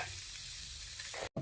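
Fish frying in a pan, a steady close hiss of hot oil sizzling throughout, briefly cut off near the end.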